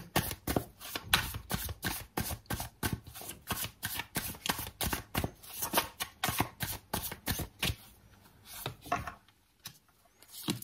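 A deck of tarot cards being shuffled repeatedly by hand, with close, crisp riffling bursts in a fast uneven rhythm that slows and thins toward the end, with no talking.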